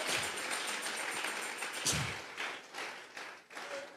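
A church congregation clapping together as an offering of applause, a dense, moderately distant wash of handclaps that thins into a few rhythmic waves toward the end.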